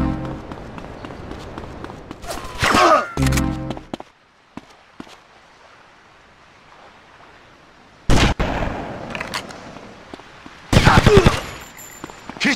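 Gunfire in GTA Vice City Stories, loud bursts of rapid shots in short clusters separated by quiet gaps, with sharp crackling reports and a few single cracks.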